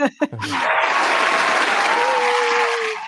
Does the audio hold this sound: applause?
yes